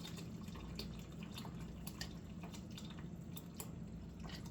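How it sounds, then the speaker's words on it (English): Beef broth poured from a pot into a pan while making beef barley soup, a light splashing trickle with scattered drips, quiet and close over a faint low hum. "So now what I can do is I can pour that straight into my pan"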